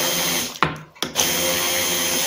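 A kitchen blender whips foot cream with a loud, steady motor whine, stopping briefly twice before running on at full speed, with no talk.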